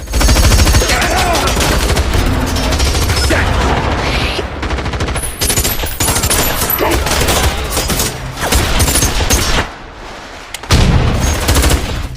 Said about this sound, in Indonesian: petugas itu menolak dan lebih memilih adu tembak dengan kelompok Jackson